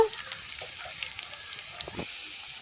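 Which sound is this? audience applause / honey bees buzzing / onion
onion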